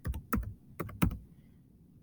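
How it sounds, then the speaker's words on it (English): A web address is typed on a computer keyboard, with quick bursts of close, crisp key clicks separated by short pauses, ending on a final sharper tap. "I'm going to type that in"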